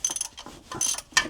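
A ratchet with a 16mm spark plug socket clicks while loosening a car's spark plug, a short, close run of quick metallic ratcheting ticks with faint rattling and no voices.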